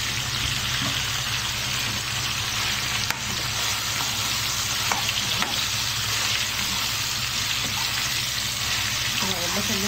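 Half a kilo of sliced onions fries and caramelizes in a pan with a little added water, producing a loud steady sizzle that runs the whole time, with faint speech in the background.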